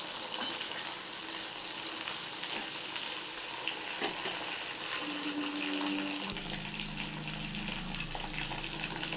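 Brinjal sautéing in hot oil for a Tamil brinjal pachadi side dish, a steady broadband sizzle and frying hiss with occasional stirring scrapes throughout, close and continuous with no voices.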